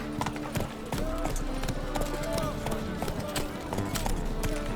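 Roach, the horse in the video game The Witcher 3, gallops with a steady rapid clatter of hooves, loud and close, alongside game ambience and some speech.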